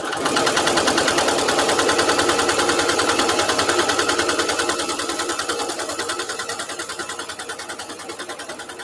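A sewing machine with a walking foot stitches a placemat, running in a steady fast mechanical chatter that stays close and continuous throughout, gradually easing slightly in loudness, with no one talking.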